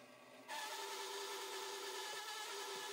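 A bandsaw cuts through a wooden board meant for cutting boards, starting quiet and then rising into a loud, steady whining buzz that holds for the rest of the clip.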